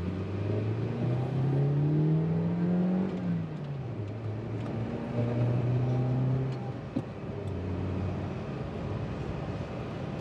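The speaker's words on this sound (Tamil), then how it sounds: "மரக்கறி வண்டி போகுது பாருங்க" A vegetable vendor's vehicle drives past on a road, its engine rising and falling in pitch as it nears and recedes, fairly loud with outdoor background noise and no speech.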